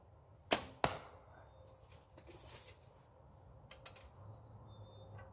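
A 1962 Browning Olympian recurve bow, with no string silencers, looses an arrow: a sharp double snap of string and release close by, then a soft faraway thud and faint rustle in a quiet outdoor setting.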